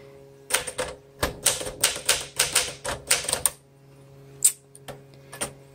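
Clattering keystrokes from a 1961 Smith Corona Sterling 5A manual typewriter, close and loud, in quick irregular bursts with short pauses, then a few isolated sharp strikes near the end.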